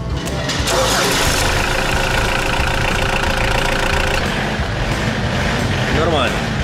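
A rusty used car's engine cranks, catches and settles into a steady, loud idle close by, with voices talking over it.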